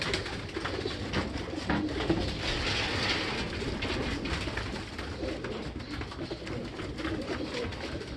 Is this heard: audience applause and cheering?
no